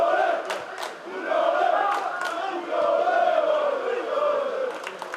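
Black Gringos football fans chant and cheer loudly at an away match in Beltinci, a massed crowd roar that swells and dips in sustained waves from a distance.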